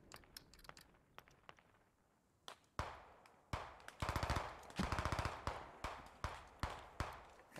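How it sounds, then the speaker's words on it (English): Single-fire gunshots in the military shooter Squad crack out as separate loud reports, a few sparse shots first and then a quicker string of evenly spaced shots, with no talking. "Single fire, because I just want to shoot this man's once."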